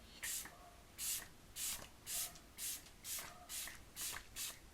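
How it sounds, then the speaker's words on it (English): A setting spray bottle misted over and over, about nine short, evenly spaced hissing bursts close by, with nothing else heard between them. "So let me just spray that."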